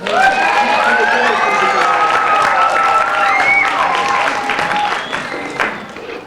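An audience applauds for Dr. Jones at a chemistry magic show, loud sustained clapping mixed with cheers and children's shouts, fading slightly at the end.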